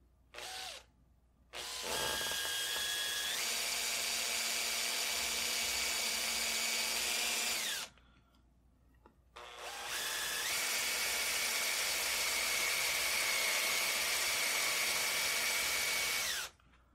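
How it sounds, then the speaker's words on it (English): A drill press boring into a Kar 98 rifle's wooden buttstock, two long steady whining runs of about six and seven seconds with brief pauses and spin-down between, loud and close with no talking. "Adding a block behind the stock will hopefully prevent any blowout when the drill bit exits."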